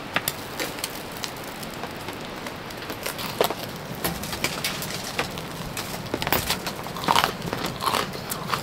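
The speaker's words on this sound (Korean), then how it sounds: "여기에다가 빈치를 싸서 먹으면 맛있대요" Someone chews a bite of food wrapped in a leaf at a winter solo campsite, with close, irregular crunchy and wet chewing clicks scattered throughout.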